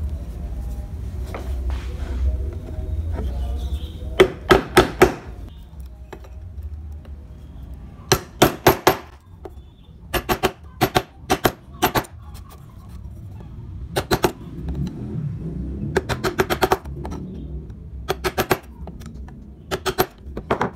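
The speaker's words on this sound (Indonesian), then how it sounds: "Di video kali ini saya akan mencontohkan menggunakan pahat kol." A mallet strikes a gouge chisel while wood is carved by hand, giving sharp clustered taps in quick bursts of three to five, separated by quieter pauses, close and clear.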